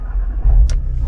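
A car engine starts up close and loud, a short crank surge settling straight into a steady low idle rumble.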